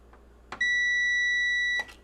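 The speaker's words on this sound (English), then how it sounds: "we get a beep, which tells us something is shorting" A multimeter on continuity test gives one steady, clear electronic beep lasting a little over a second on a shorted logic board from a prototype iMac. Brief clicks from the probes come at its start and end, over quiet background.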